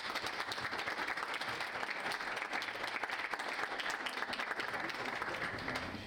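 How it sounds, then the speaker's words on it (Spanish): A university audience gives sustained, dense applause for Jessica Benavides, with many hands clapping steadily and evenly throughout and tapering slightly at the end. "Un aplauso para ella, por favor."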